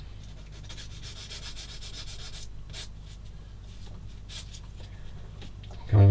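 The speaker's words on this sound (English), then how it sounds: "I'm just rubbing it back and forth because sometimes I'm even guilty of it where I put too much pressure on it" Steady back-and-forth rubbing on a plastic part from a TAKOM 1/16 scale US Jeep model kit, a close, continuous scratchy sanding texture with no talk, ending in a sudden louder bump.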